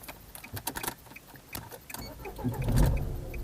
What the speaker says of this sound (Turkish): Arabayı çalıştırıyoruz.